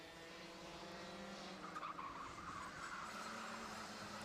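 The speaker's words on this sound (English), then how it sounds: "the tyres squealing for grip" Junior and cadet racing karts at Ellough Park circuit on a warm day, tyres squealing for grip through a corner over a steady, close engine drone, the squeal swelling midway and holding to the end.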